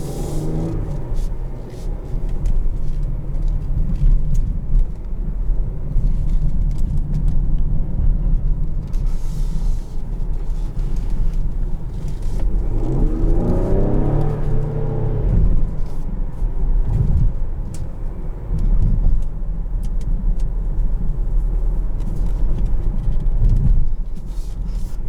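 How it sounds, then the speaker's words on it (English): A 2020 Ford Explorer ST driving in normal mode, its engine and exhaust giving a steady low rumble inside the cabin that swells under acceleration around the middle, with road noise throughout. "I'll go ahead and bump it over into normal mode so we can kind of compare."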